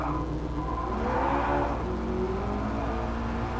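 McLaren 650S 3.8-litre V8 biturbo with a seven-speed automated manual gearbox, heard from inside the car in GT Sport: a loud, steady engine roar that swells and rises in pitch midway, with no talking.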